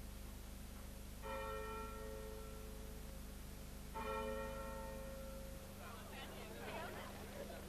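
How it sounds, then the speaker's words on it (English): Bells of the local churches tolling together one month after Chernobyl, two clear resonant strikes a few seconds apart ringing out over a low steady hum, followed by a rustle of noise. "the bells of all the local churches toll in unison"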